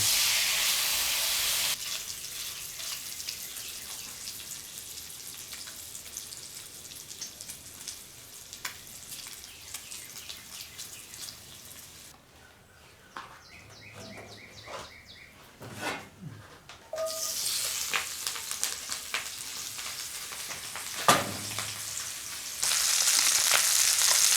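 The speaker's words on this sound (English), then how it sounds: "What you're really trying to get from this is, one, cooked bacon, but mostly you're trying to get bacon grease in the pan." Bacon sizzles and crackles steadily in a cast iron pan over a Solo Stove Mesa, a constant hiss interrupted midway by brief clinks and knocks, then swelling louder again toward the end; nobody speaks.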